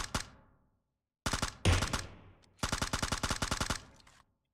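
Gunfire in the PUBG Mobile battle royale game: a short burst, then a pause, a second burst, and a long rapid automatic volley of sharp, loud shots, with no voices over it.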